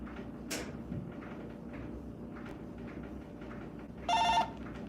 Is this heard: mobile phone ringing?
yes